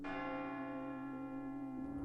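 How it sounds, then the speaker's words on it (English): A single bell in the video game Tormentum is struck, a sustained ringing tone with rich overtones humming evenly for about two seconds, heard alone. "Well, let's ring this bell one more time."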